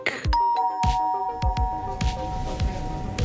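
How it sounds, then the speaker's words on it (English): An electronic door chime at a Stuffer Shack convenience store rings out in bright, repeating tones with sustained ringing tails, layered over low thumps and shop clatter. "The chime on the Stuffer Shack door tinks in this computerized circuitry bell dreck."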